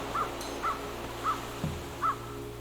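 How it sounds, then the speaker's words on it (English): A seagull calls far off at a beach, giving four faint, evenly spaced cries over a soft, constant background wash. "Maybe that seagull way in the distance."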